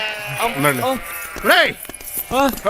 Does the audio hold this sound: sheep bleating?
yes